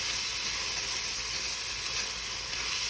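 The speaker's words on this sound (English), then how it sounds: "We're going to saute up our onions for about a minute." Onions sautéing in a soup pot, a steady, even sizzle and hiss that holds at one level throughout with no talking over it.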